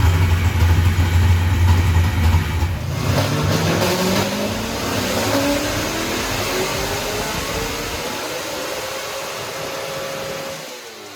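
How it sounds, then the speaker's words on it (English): A car engine is held under load on a dyno in a shop, revving hard with rising and falling pitch sweeps over a steady loud mechanical roar, easing off toward the end. "it allows us to rev the motor off fully while still having load"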